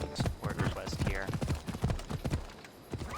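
A horse's hooves clip-clop in a steady walking rhythm in Assassin's Creed Odyssey, close and moderately loud, while someone talks over them.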